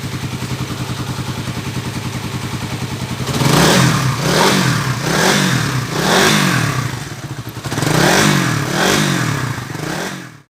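A freshly overhauled Suzuki Raider 150 motorcycle engine idles with a rapid clattering beat, then revs repeatedly in loud, rising-and-falling bursts, about five throttle blips close by with no talking.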